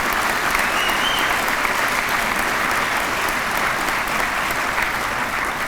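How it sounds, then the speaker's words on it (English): Sustained audience applause fills a university convocation hall, dense and steady from start to finish, with a crowd clapping warmly for enrollment management staff and no voices rising above it. "would you give a round of applause for our enrollment management folks"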